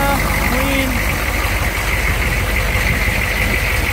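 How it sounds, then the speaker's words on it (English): A Humvee engine idles close by, a loud, steady, low rumble that holds an even level throughout, with no one talking over it. "good running engine"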